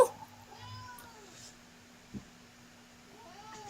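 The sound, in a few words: cat meowing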